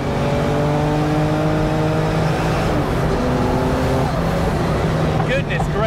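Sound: old school turbocharged car engine accelerating

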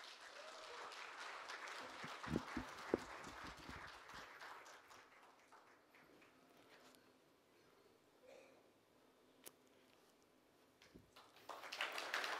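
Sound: audience applause welcoming a speaker

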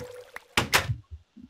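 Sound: door opening in a video game

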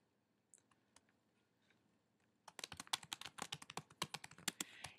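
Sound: typing a new user's name on a computer keyboard

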